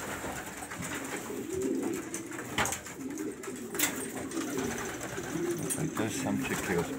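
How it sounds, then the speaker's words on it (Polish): Racing pigeons coo in a pigeon loft, with soft repeated low cooing layered throughout, a few wing flutters and knocks, and someone speaking over them. "Jak państwo słyszą, gruchanie w gołębniku."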